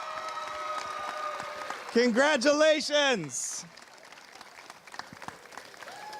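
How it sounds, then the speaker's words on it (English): Audience applause for four scholarship students at a scholarship presentation, a steady patter of clapping running throughout with someone speaking over it and a brief sung or drawn-out voice in the middle. "Let's give one more big round of applause to these 4 incredible students."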